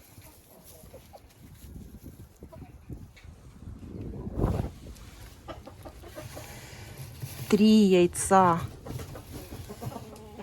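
Marans hens cluck softly in a coop, with a louder burst of squawking clucks near the middle, while a person speaks briefly over rustling.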